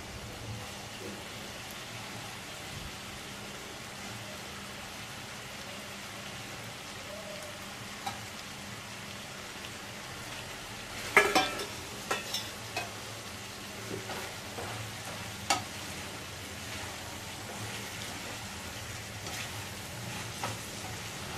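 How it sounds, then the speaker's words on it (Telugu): Eggplant pieces fry with cucumber pieces in a pan, a steady soft sizzle with occasional stirring clatters and scrapes, moderately close and without talk. "ఇప్పుడు వంకాయ ముక్కలు కూడా వేసి ఫ్రై చేసుకోవాలి."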